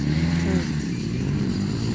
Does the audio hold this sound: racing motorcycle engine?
yes